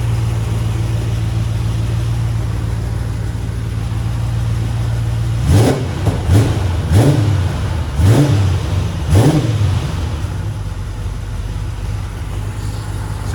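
Aston Martin Vantage V8, warmed from storage, idles steadily, then gets five short throttle blips in quick succession, each a throaty rise and fall, before settling back to idle.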